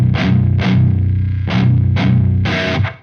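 A 7-string Ibanez S7320 with DiMarzio pickups plays heavy palm-muted chugs through a Synergy Bogner Uberschall amp module, loud and distorted, with several short bursts of riffing separated by brief gaps and trailing delay and reverb.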